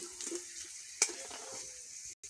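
Fuchka puris (Jalpai fuchka) frying and puffing up in hot oil, giving a steady close sizzle with a sharp crackle about halfway through and a short break near the end.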